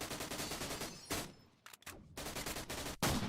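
Repeated shotgun blasts in the Roblox game The Storage, a rapid run of loud gunfire bursts with a short lull in the middle and a final heavy shot, no talk.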